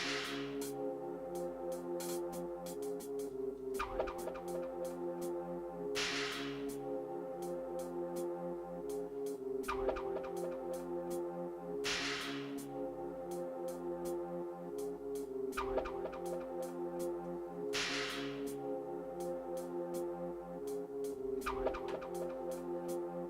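Chopped jungle drum breakbeat with accented hits, a steady loop of sharp snare and cymbal strikes over a sustained tonal bed, repeating roughly every six seconds at an even level with no talking.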